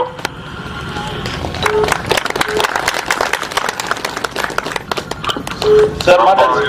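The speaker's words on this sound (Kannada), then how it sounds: "ದಯವಿಟ್ಟು ಒಂದು ಜೋರಾದ ಚಪ್ಪಾಳೆ ಮುಖಾಂತರ ಅವರಿಗೆ ನಾವು ಸ್ವಾಗತ" An audience at a large Youth Congress gathering claps to welcome a speaker. The applause is dense and sustained, and a voice talks over it.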